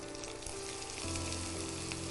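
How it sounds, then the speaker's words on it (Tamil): Finely chopped capsicum frying in oil in a pan, a dense, even sizzle and crackle that continues steadily throughout, fairly quiet and with no voices. "இப்போ இதே ஆயிலே வந்து நான் பொடியை நறுக்கி வச்சுருக்கேன் கேப்சிகம்"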